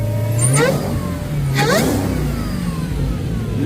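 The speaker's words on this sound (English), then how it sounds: "Oh, you hear that whine? That whine crazy. Hold on, I'm gonna hit the gas for you." A supercharged Dodge Charger Hellcat engine with an aftermarket intake revs hard twice, with a high rising supercharger whine sweeping up alongside each rev, loud and close, then settles back to a rumbling idle.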